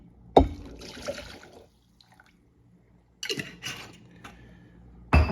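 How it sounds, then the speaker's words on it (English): Two cups of milk poured into an eggnog mixture in two separate bursts of liquid splashing and trickling, each starting with a sharp clink, with a quiet pause between them. "I'm going to pour in the 2 cups of milk"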